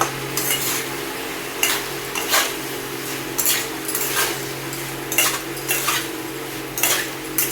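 Vegetables being stirred with spices in a metal wok, a spatula scraping and clanking against the pan in irregular bursts over a quiet frying sizzle, close and fairly loud.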